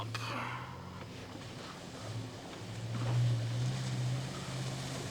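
Toyota Tacoma off-road truck driving into swamp water, its engine humming low beneath steady splashing and sloshing water, with a rise in intensity midway, heard from inside the cabin.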